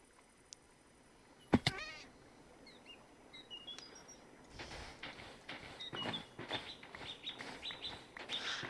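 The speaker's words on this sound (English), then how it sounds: "every time I get hurt, my shoes make a meow sound" Cat meows from a player's shoes each time the character takes damage in modded Minecraft, with short chirping bird calls over a quiet background.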